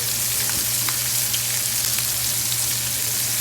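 Lamb chops fry in a pan with a loud, continuous close-up sizzle, a dense steady hiss with small pops and spatters throughout and no talking.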